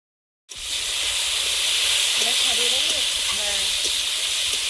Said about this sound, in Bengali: উচ্ছে আর বেগুনটা ভেজে নেবো